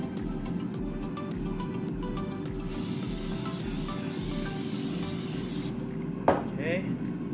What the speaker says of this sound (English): the next thing we're gonna do is spray some olive oil